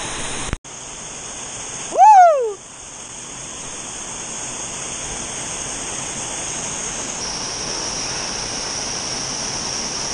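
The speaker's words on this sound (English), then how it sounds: "Under the waterfall." A steady, broad roar of a waterfall at a swimming hole fills the scene, continuous and close, with a brief whoop-like voice and a gust of wind noise cutting in early on.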